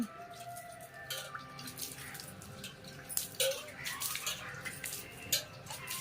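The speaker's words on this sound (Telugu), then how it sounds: "అన్ని పాదుల్లో నీళ్ళు అలా చల్లుకోవాలి" Water sprinkled by hand onto plant beds with sprouting seedlings, splashing and dripping in scattered bursts, with light clinks and rustles, nearby and fairly soft.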